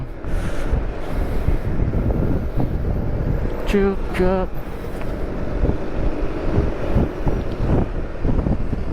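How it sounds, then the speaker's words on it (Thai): Strong wind buffets the microphone of a Forza 350 scooter during a food-delivery ride, a steady roaring rush throughout, with a brief horn-like tone near the middle and someone speaking over it. "เหมือนฝนจะตกจริงๆนะเนี่ยมันเป็นเล่นไป ลมแรงเลย"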